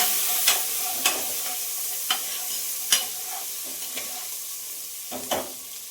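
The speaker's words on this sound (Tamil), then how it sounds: "வெங்காயத்தை சேர்த்துட்டு நல்லா வதக்கிக்கலாம்." Sliced onions sizzle gently in a pan for sambar while a spoon scrapes and taps against the metal every second or so, the frying hiss steady and soft underneath.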